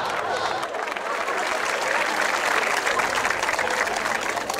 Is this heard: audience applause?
yes